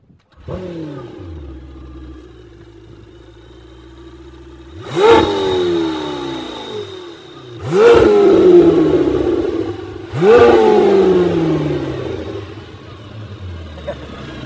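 A 2025 Lamborghini Temerario V8 engine, cold, cranks and fires into a steady idle, then three sharp, loud revs climb and fall away, each followed by a rumbling idle.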